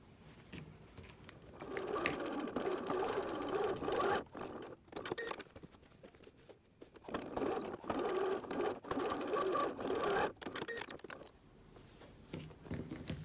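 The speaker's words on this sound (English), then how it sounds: "Now we're going to sew those." A sewing machine stitches fabric for a seat belt cover in several bursts of rapid whirring, each a few seconds long, separated by short pauses, loud and close.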